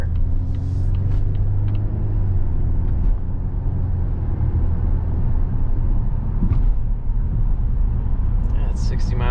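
Low, steady cabin rumble of a 2022 Volvo XC90 T6 cruising at highway speed, road and tire noise continuous and fairly subdued, with a few brief clicks and rustles inside the car.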